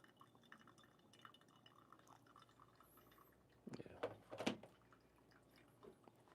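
Water is poured slowly over coffee grounds for a second pour: a short, quiet trickling and splashing burst rises out of a faint murmuring background and then fades.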